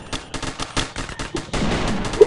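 Firing squad gunfire in the Roblox game Tower Battles, a rapid burst of overlapping synthetic shots that thickens into dense continuous fire near the end, loud and close with no talk.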